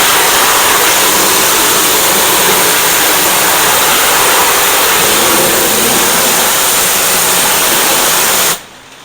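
A loud, steady roar of a pressure washer spraying during kitchen hood cleaning runs continuously up close, then cuts off abruptly near the end.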